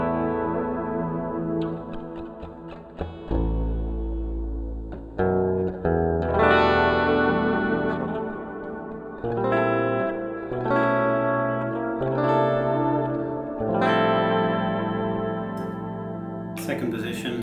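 Clean tone from a Sire X6 seven-string electric guitar on the bridge pickup, strummed chords and picked notes ringing with some effects, close and steady, alone without talk.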